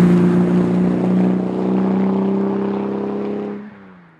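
A 1960 Aston Martin DB4 Zagato, one of the original cars, drives past as a steady, loud engine drone with a strong low hum, holding for several seconds before easing off and fading at the end.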